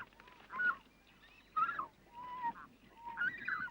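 King shag chicks begging their parents for food in a seabird colony, a few harsh, honking calls in separate bursts, moderately close, with quiet gaps between them and no talking.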